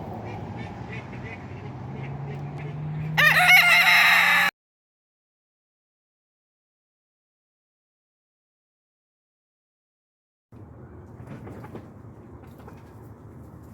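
A flock of backyard poultry briefly calls and clucks nearby, cut off abruptly by silence before faint background noise resumes.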